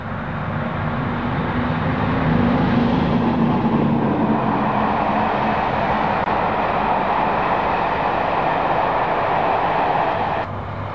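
Class 55 Deltic diesel locomotive on the East Coast Main Line, a loud, steady engine roar and rumble of rolling wheels lasting the whole stretch, close and unbroken.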